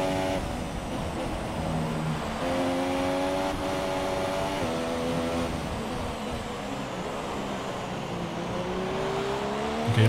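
An F1 car in a 2017 Formula One racing game screams along with a high, steady engine note, shifting gears as it closes in, loud and sustained throughout with no talking.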